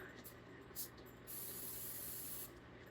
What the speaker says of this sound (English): I'm going to spray these liberally all the way up to the top.